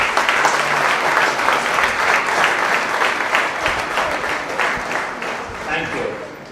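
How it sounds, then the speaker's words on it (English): Audience at a Pune International Centre panel discussion on the Union Budget 2016-17 clapping for the panelists, a full sustained round of applause that tapers slightly toward the end. "The louder the claps go, the broader the smiles go."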